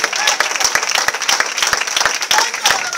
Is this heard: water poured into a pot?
no